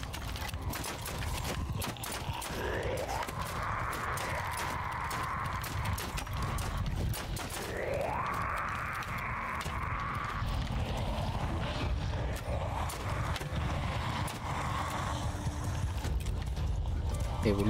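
Horse hooves gallop in a rapid clip-clop during a Bannerlord battle, with an occasional whinny amid clattering combat noise, moderately loud and continuous.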